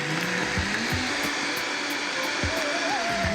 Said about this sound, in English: So I'm just going to blend it together.